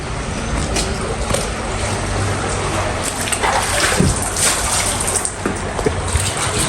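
Water flowing along a wadi walkway in Oman: a continuous rushing and trickling wash with occasional splashy bursts, heard close and steady throughout.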